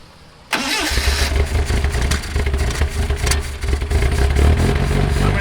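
A supercar engine fires up after a brief quiet moment, then runs loud and close with a rough, uneven, lumpy idle that stumbles as if starved of fuel.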